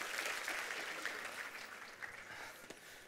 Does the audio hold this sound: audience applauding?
yes